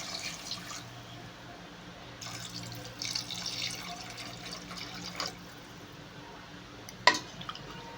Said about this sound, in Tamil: தண்ணி எடுத்து ஊற்றிக்கலாம்